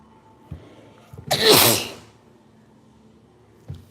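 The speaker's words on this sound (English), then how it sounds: "Oh dear, I feel like I'm gonna sneeze." A single loud, close sneeze with a short intake of breath before it, then quiet apart from a couple of soft clicks.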